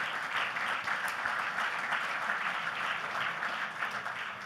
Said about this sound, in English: And yes, please, a round of applause for Steve.